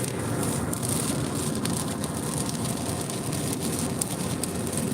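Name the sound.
rain and wind on a truck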